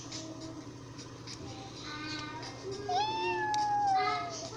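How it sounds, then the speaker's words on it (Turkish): A cat meows several times in rising, drawn-out cries, fairly close, over a steady low background hum and faint room noise. "Pencereden galiba birin, bir kedi miyavlıyor."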